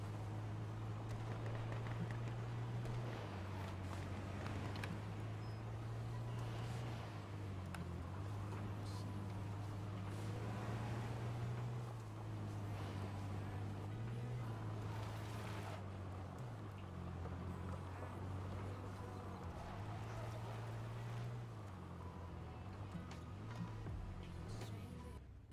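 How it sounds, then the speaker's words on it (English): A car engine in the H1Z1 battle royale game drones steadily nearby, a low hum that rises and falls in pitch through the whole stretch with a windy, noisy wash over it. "I just heard a car."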